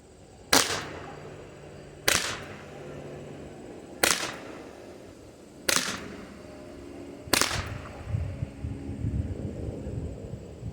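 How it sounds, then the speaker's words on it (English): Five sharp, loud shots from less-lethal launchers striking a stainless steel fridge door, evenly spaced about every two seconds, each a hard crack with a brief ringing decay over faint background noise. "let's take a couple of shots with this one"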